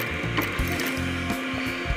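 Sewing machine stitching a leather bag, a fast steady mechanical clatter of the needle running continuously at close range, with no talking.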